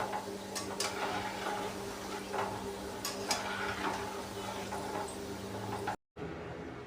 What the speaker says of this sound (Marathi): हलक्या हाताने गुलाबजाम थोडे थोडे असं हलवून ढवळून याला ना सोनेरी कलर येईपर्यंत याला व्यवस्थित फ्राय करून घ्यायचं